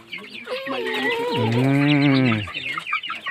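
Native heritage chickens on a Philippine farm cluck and call in a loud, close, drawn-out vocal burst lasting a couple of seconds, with fainter bird chatter around it.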